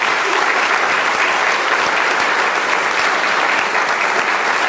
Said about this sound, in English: Give them all another round of applause.